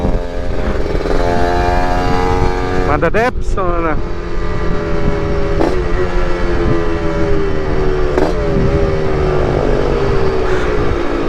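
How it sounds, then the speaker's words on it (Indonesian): A ported Yamaha RX King two-stroke motorcycle with modified exhaust revs loudly and close, its engine note climbing in sharp blips and dropping, and someone speaks briefly over it. "Suara dua tak tuh enak ya guys."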